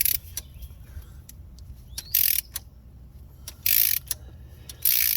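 A ratchet with a 13 mm extension works a bolt on a bracket under a 2013-2018 Nissan Altima, giving quiet clicks between short bursts of rapid ratcheting, with faint chirps nearby.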